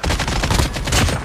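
Rapid gunfire in a solo-versus-squad shooter video game, dense bursts of shots crackling continuously and loudly with no pauses.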